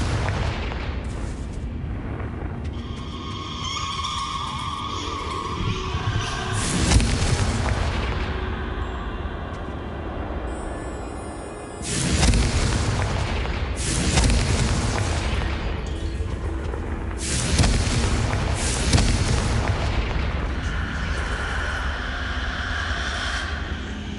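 Repeated Confringo fire-spell blasts in Hogwarts Legacy on PS5: a few loud booming bursts spaced several seconds apart over a continuous rumbling, crackling bed of ambient noise.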